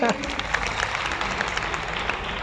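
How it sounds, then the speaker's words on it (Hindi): An audience at a direct-selling motivational speech claps in a continuous wash of applause, fairly loud and steady, after a voice briefly at the start. "इन लोगों के लिए भी तालियां बजाइए"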